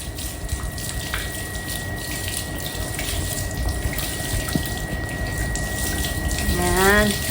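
Tap water runs steadily while two dogs are bathed, a continuous close splash and hiss with a short rising squeal near the end, as someone talks over it.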